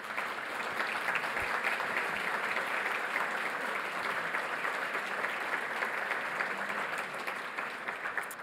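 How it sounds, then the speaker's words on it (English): Sustained, dense applause from a large crowd at a gala, steady and loud throughout with no pauses. "Let's give them a round of applause"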